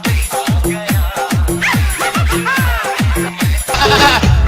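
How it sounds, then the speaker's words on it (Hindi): A male goat bleats repeatedly in a close, loud, rhythmic series of calls, about eight strained cries across the span, with a rougher burst at the end. "ये हमारा बकरा आ गया।"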